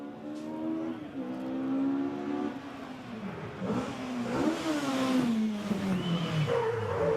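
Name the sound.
Ford Escort Mark II rally car driving past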